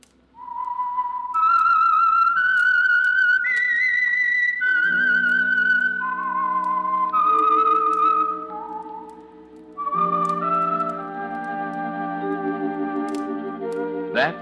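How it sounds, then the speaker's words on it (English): A whistled theme melody for the radio mystery program The Whistler, a lone, clear, sustained tune stepping through rising and falling notes, played loud and close with orchestral accompaniment swelling beneath it in the second half. "That whistle is your signal for the Signal Oil program, The Whistler."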